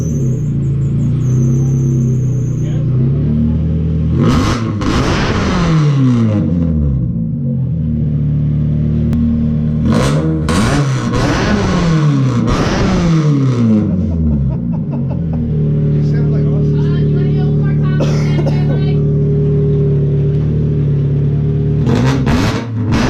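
A Mazda Miata fitted with a new muffler and exhaust revs repeatedly in loud, close bursts over a steady idle, the engine climbing and falling several times before settling into a rumbling idle.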